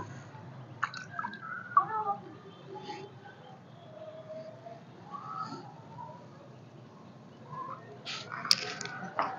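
Freshly harvested garden beans, infested with pests, are washed in water, giving faint scattered splashes and drips, with birds calling in the background and brief talk.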